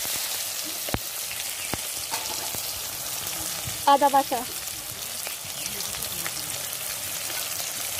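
Spices fry in hot mustard oil in a kadai, a steady close sizzle running through with a few sharp clinks and pops, while a voice speaks briefly over it.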